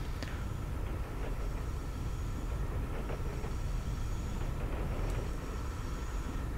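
Train pulling away in the video game Train Simulator 2016, a steady low rumble of wheels and rolling stock with faint metallic squeals and clicks, continuous and moderately quiet with no voices.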